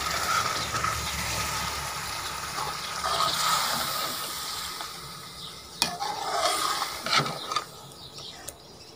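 Masala paste for chicken biryani sizzles and fries in a pot while being stirred, with continuous close frying hiss and occasional scraping clinks of the spoon.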